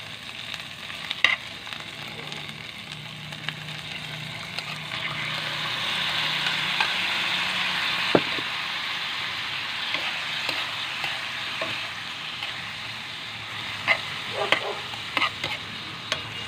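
Bitter melon (ampalaya) sizzles in a hot pan as it is stirred, a steady hissing fry with scattered scrapes and clicks of the utensil against the pan, fairly quiet and with no talking.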